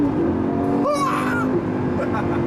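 A white Lamborghini Gallardo LP560-4 V10 drops a gear and accelerates, its engine note rising sharply and rasping loud for about a second before settling into a steady drone under cabin noise.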